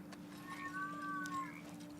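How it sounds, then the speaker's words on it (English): A deaf cat lets out a long, loud, drawn-out yowl, a single wavering cry rising and falling over a steady background hum. "the cat's deaf. She doesn't know that she's making a lot of loud noises."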